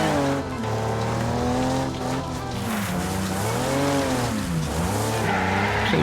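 A car in the racing game The Crew 2 spins doughnuts with long, wavering tyre squeals that rise and fall over a steady engine roar, loud and sustained.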